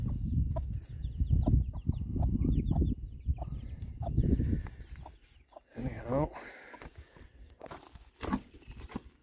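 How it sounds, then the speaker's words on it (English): A mother hen with her three little chicks in a backyard coop, clucking softly in short bursts with faint peeping and scratching nearby, while someone talks over much of it. "there's that mother hen with her three little ones"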